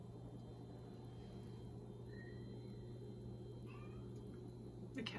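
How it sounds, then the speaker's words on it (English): A cat gives a few faint, drawn-out unhappy meows in a kitchen, set against a steady low background hum with no talking. "The cat's not happy."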